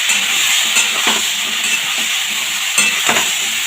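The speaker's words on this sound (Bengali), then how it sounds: "ভালো করে সবজিটা ভেজে নিচ্ছি।" Green banana pieces fry in a pan with salt and turmeric, making a constant close sizzle with soft, repeated stirring and scraping strokes and no talking.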